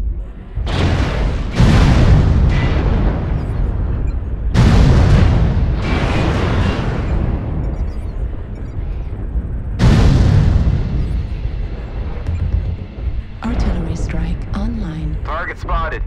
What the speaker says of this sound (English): Artillery target strike spotted.